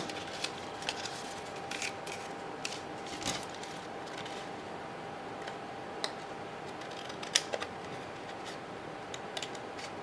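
Scissors cut through paper and card while a pop-up frame is made, giving faint, scattered snips and small clicks over a quiet background, with one sharper cut standing out.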